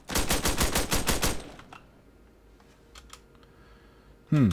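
Rapid burst of about nine sharp gunshots in the Arma video game, loud and evenly spaced, followed by quiet ambience, a few faint distant pops and a sudden loud swooping sound at the end.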